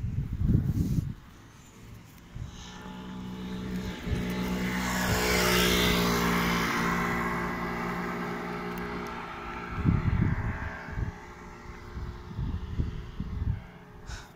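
Cars pass on a roadside during an outdoor walk with a chihuahua puppy. One vehicle swells up from a low rumble and fades away mid-clip, with scuffing handling noises near the start and end.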